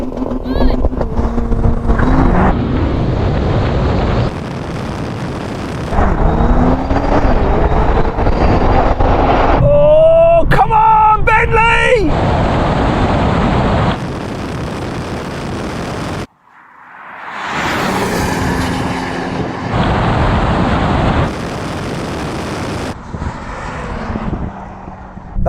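A Bentley Continental GT and a BMW M8 launch side by side in a drag race, loud engines roaring and revving up through repeated gear changes, with brief pauses and shifts in pitch as the cars accelerate.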